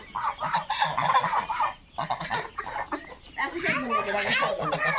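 Domestic ducks call in loud, repeated honking quacks that come in bursts across a few seconds, close by, mixed with voices of people talking.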